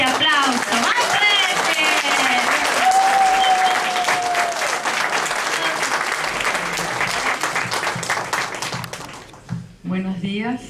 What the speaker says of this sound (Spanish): a la que le vamos a dar un fuerte aplauso. ¡Más fuerte!